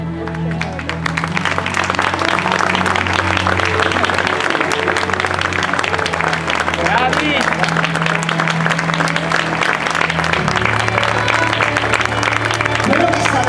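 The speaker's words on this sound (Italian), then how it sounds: "Invito tutti al centro dei giardini per un applauso da parte vostra." Crowd gathered in gardens on the Amalfi Coast during a local associations' event, applauding in a sustained, dense clapping roar over steady tonal sound in the background.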